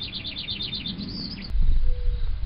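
A bird chirping in a quick series of bright, high tweets followed by a short trill, close and clear, before a louder low rumble of background noise takes over.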